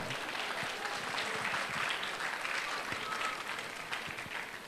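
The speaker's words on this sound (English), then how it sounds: "Give a big round of applause to the parents who are sitting here." A graduation ceremony audience applauds the parents seated in the hall, a sustained, even wash of many hands clapping heard from across a large room, fairly soft and with no voices over it.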